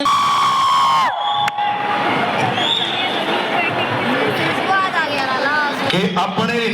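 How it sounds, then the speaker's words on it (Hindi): Audience at a college youth festival applauding and cheering, a steady wash of clapping and shouts under a loud voice and whistles, with brief breaks near the start and end. "स्वागत किया जा रहा है, जोरदार तालियां चाहूंगा सभी के।"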